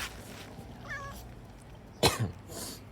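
A cat gives a short, thin meow at a moderate distance, followed a moment later by a louder, abrupt cough-like burst.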